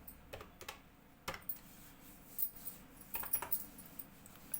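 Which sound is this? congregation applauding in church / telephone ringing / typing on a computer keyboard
typing on a computer keyboard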